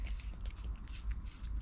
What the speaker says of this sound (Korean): 아삭아삭 소리 나네.